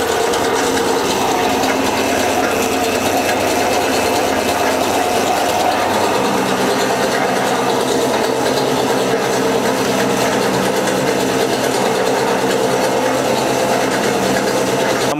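A namkeen frying machine runs loudly and continuously, giving a steady mechanical grinding and ratcheting drone with a rasping, gear-like texture and no talking.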